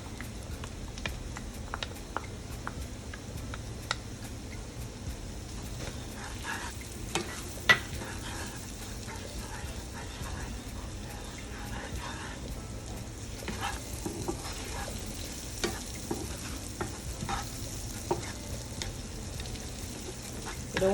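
Onions and garlic fry in a pan with a steady soft sizzle, punctuated by light clicks and taps of stirring throughout.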